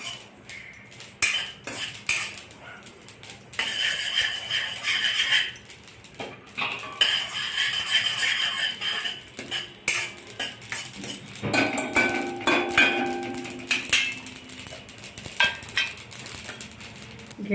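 Sesame seeds roast in a pan for a Bhogi mixed vegetable dish, giving a steady run of light metallic scraping and clinking as they are stirred, with no talking.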